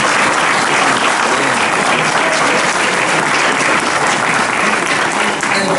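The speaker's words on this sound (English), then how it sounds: "Let's give them all a big applause." Loud, continuous applause from an audience honoring a reparations panel, close and dense, filling the whole stretch with steady clapping and no speech.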